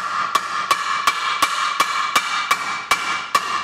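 A hammer taps a suspension wishbone bushing bolt into place on a car, about ten sharp, evenly spaced metallic knocks over a steady background hum.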